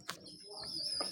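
Baby bird being hand-fed, giving a couple of short, faint high chirps with a thin whistling tone between them, close by and quiet.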